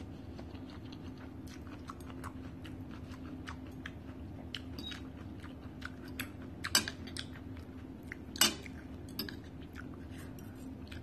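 Crunchy bites and chewing of a corn salad with fresh shrimp, a Thai-style corn som tam, come as close, quiet crunches with a couple of sharper louder bites, alone without talk.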